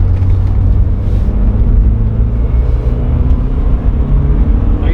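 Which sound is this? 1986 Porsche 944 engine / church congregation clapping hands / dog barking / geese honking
1986 Porsche 944 engine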